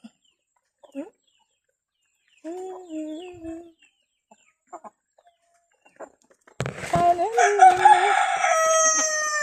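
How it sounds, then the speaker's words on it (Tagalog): Chickens clucking in short scattered calls, then a rooster crows loudly and at length near the end, with a person talking in the background. "Durong manok."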